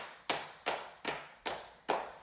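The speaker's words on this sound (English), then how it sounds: "And then we're going to knock on the back," Hands knocking on the back and hips during a gentle evening qigong routine: five crisp, evenly spaced slaps about every 0.4 seconds, close and fairly soft, with no talking.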